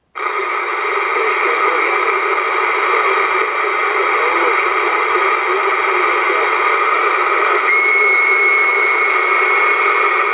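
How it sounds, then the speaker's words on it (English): A steady wash of 23-channel AM CB radio static and hiss runs throughout, loud and unbroken, with a faint tone creeping in near the end as the signal fades. "Looks like conditions are changing"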